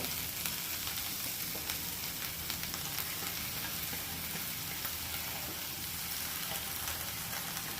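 Wild greens sizzle steadily as they cook in a hot pan, a dense, even crackle that holds at close range for the whole stretch with no voices.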